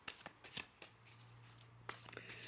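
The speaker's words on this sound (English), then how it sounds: "I'll just give them a shuffle" Tarot cards being shuffled by hand: a few quick riffling bursts with short pauses, close and fairly soft, over a low steady hum.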